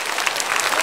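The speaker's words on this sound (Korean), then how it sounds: "새가족 박수로 환영하겠습니다" Steady applause from a church congregation welcoming newcomers at a Sunday service, a dense patter of clapping filling the whole moment.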